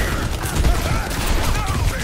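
Gunfire in an online multiplayer shooter game, a steady stream of rapid shots under dense game noise and faint voice chatter.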